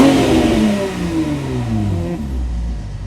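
Car engine with a factory exhaust revving hard nearby, pitch climbing in repeated sweeps before dropping back toward a rough idle, loud and alone without talk.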